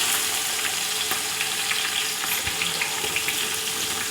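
Sliced onions sizzle and crackle in hot oil with whole spices for chicken biryani, a steady dense frying hiss with scattered pops and a brief stir clatter, no voices.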